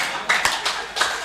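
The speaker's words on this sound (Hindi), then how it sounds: "ताली हाथ ऊपर उठा फिर ताली बजा" Scattered hand claps from an audience at a Hindi comic poetry event, a few sharp separate claps rather than full applause, close and fairly loud with no talk.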